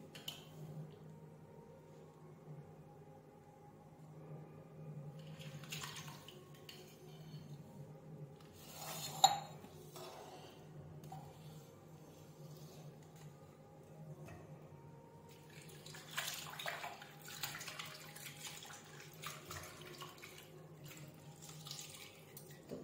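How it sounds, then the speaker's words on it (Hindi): Tap water running in a kitchen sink while spinach is washed, a faint steady trickle with scattered splashes and rubbing, one louder knock midway and busier washing near the end. "तो पालक को पहले धो लेती हूँ, फिर उसके बाद इसी में ऐड कर दूँगी।"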